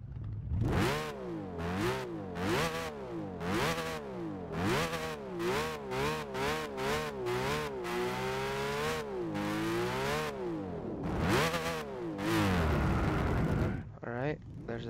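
A Nissan Skyline 2000GT-R engine in Gran Turismo revs repeatedly, rising and falling in loud, whining bursts, climbing to a sustained high pitch near the end.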